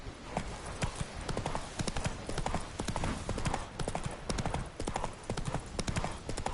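Galloping horse in The Witcher 3, its hooves drumming in a steady fast rhythm close up and loud throughout, with faint voices now and then.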